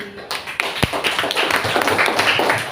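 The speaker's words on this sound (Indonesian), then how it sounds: "Kasih tepuk tangan buat Naudi." A classroom of students claps for a classmate named Naudi, a dense burst of applause with one sharp louder clap early on, close and steady for a few seconds.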